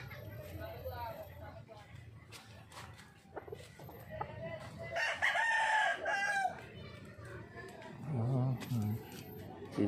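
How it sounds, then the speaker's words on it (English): A rooster crows loudly and clearly amid a bonsai garden setting in the Philippines, with a long cock-a-doodle-doo in the middle, clucking fowl around and people talking and footsteps nearby. "Chicken."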